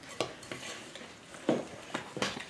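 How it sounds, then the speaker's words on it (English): A spoon stirs dry snow in a bowl for snow cream, giving several soft scraping, clinking strokes close by at an uneven rhythm. "So, I put 2 or 3 cups in here and I'm just going to stir it up"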